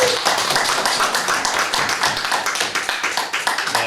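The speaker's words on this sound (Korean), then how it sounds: "박수 한번 보내주시기 바랍니다" A church congregation during a Sunday worship service claps in a brisk, fairly close burst of mixed handclaps lasting around four seconds.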